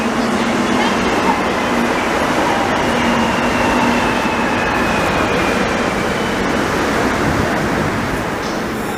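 Montreal STM metro train riding: steady loud rumble and rushing roar of the carriage in motion, continuous throughout with no clear voices.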